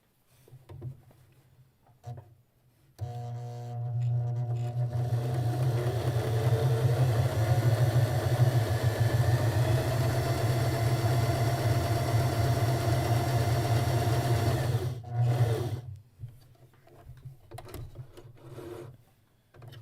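A sewing machine stitches quilt block pieces together. After a few quiet seconds with light handling noises, a steady, close whirring motor runs for about twelve seconds, then stops.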